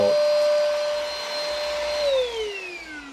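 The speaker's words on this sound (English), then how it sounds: "seems like a pretty good vacuum cleaner" A cordless vacuum cleaner runs with a steady high motor whine, then the pitch falls away as it powers down near the end; it is close and loud, with no talking.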